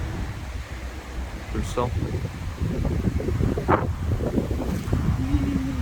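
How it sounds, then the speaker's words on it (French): Wind gusts during a foehn storm, rushing through trees with a buffeting roar that swells midway. A person speaks briefly over it. "Le bruit du vent dans les arbres derrière."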